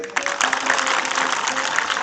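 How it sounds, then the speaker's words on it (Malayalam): An audience claps at an inauguration, a dense burst of applause from a crowd that runs steadily for a couple of seconds. "എന്നാ നന്നായിട്ടൊന്ന് കൈയടിച്ചേ"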